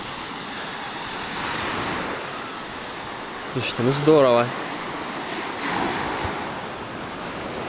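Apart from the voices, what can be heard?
sea waves on sandy beach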